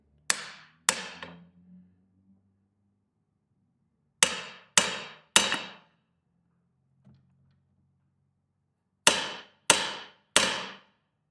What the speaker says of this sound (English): Use a striking tool to set it.